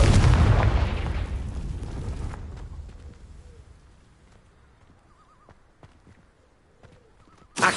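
A loud blast from the Confringo fire spell in Hogwarts Legacy bursts at the start, then rumbles and fades over several seconds into quiet game ambience, with a sharp thump at the very end.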